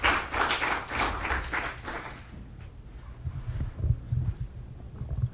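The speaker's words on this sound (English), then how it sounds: "I don't need applause at this point." Applause from an audience at a House Banking committee session, a dense burst of many hands clapping that fades out after about two seconds, leaving low room noise and scattered faint thumps.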